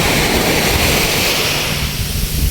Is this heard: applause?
no